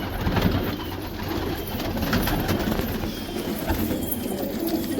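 Fancy colored pigeons coo in a loft, soft repeated low calls over a steady background rumble, fairly close and continuous with no talking.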